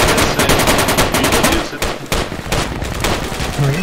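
Rapid machine gun fire in the military video game Project Reality, sustained loud bursts with a brief pause midway before the firing resumes, close and dominant.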